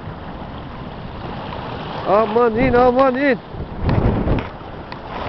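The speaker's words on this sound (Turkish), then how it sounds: "Geldi bir güzel dalga daha." Waves slapping and washing against a small fishing boat at sea off Saros Bay, a continuous wet rush with a heavier splash near the end, while someone shouts briefly over it.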